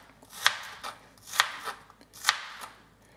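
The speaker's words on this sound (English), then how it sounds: "So I just cube up a lot of onions." A knife cubing onions on a board, three crisp, evenly spaced chops close by with faint scraping between them.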